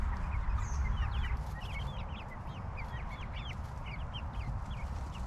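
Backyard chickens call from around their coop inside an electric netting fence, a scattering of short chirping clucks repeating over a steady rumbling outdoor background.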